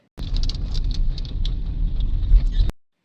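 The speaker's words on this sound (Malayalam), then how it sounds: "വളപട്ടണം പാലം എത്തുമ്പോഴേക്കും ഹെവി റെയിൻ ആണ് കേട്ടോ" Heavy rain pelts a moving vehicle near Valapattanam bridge in Kannur, a dense steady patter and road rush that starts abruptly and cuts off after a couple of seconds.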